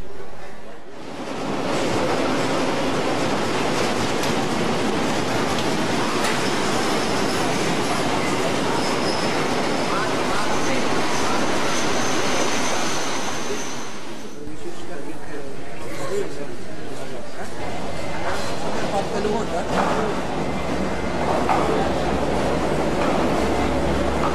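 Passenger train travelling through Ceylon, its steady loud rumble and clatter of carriages on the rails running throughout, with a brief drop in the noise midway before it resumes.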